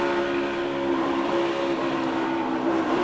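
A loud, steady NASCAR race car engine drone with strong harmonic tones, heard onboard, holding throughout with a slight shift in pitch toward the end as the driver lifts off the throttle.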